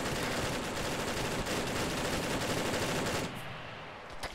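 Sustained suppressing gunfire in the video game Arma 3, a dense, continuous roar of rapid automatic shots that stays loud and unbroken for several seconds before thinning out near the end, with no speech.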